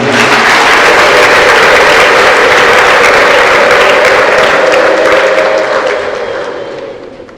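Church gathering audience at a Cyangugu diocese family forum clapping loudly together, a dense sustained wash of applause that fades out over the final seconds.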